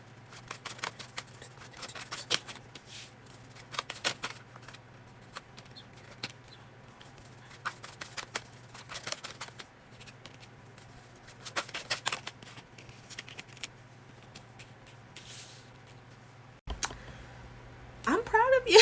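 Tarot cards are shuffled by hand close by, giving repeated soft riffling and flicking bursts spread across the stretch, with a steady low hum underneath and a louder rustle near the end.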